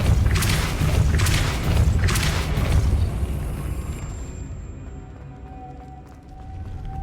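A Depulso force spell cast in Hogwarts Legacy, heard as a series of loud, heavy whooshing booms and thumps that give way to a quieter rumbling tail with faint ringing tones.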